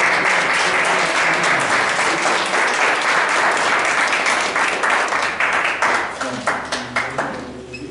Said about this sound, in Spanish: Le damos otro aplauso a ellos.